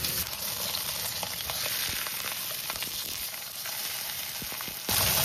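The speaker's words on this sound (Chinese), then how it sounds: "然後把鯽魚放上去煎哈，保持中火煎" Crucian carp fries in oil in a pan over medium heat, giving a loud, continuous sizzle with scattered crackles and a brief stir near the end, with no talking.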